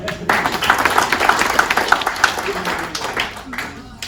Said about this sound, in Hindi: एक बार दे तालियां